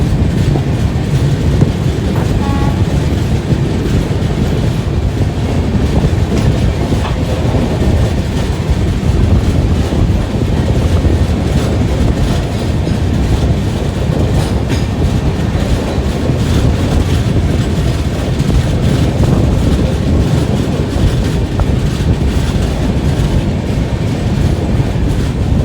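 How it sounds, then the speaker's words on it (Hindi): Darshan Express train running on the rails on an Indian route, a steady loud rumble with rhythmic clickety-clack of wheels over rail joints throughout, heard from inside a non-AC coach with no talk. "अब हमारी ट्रेन पहुंच रही थी करजत स्टेशन पर"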